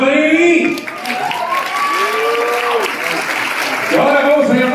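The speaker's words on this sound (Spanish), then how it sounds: "Un aplauso para Amy." An A+E Networks Latin America upfront crowd claps for a presenter, a continuous bed of applause with tonal music or voices riding over it, steady and fairly loud.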